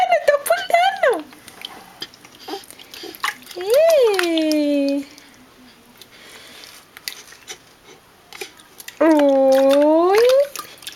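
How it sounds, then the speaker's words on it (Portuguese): During a child's bath, a bucket of water is tipped over the child, with splashing and pouring among bursts of lively adult sing-song talk and child vocal sounds nearby. "Segura, vou virar o balde aqui."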